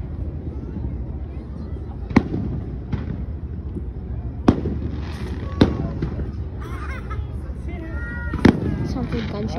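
Fourth of July fireworks go off at a distance: four or five sharp bangs spread across several seconds over a steady rumbling background, with people talking throughout.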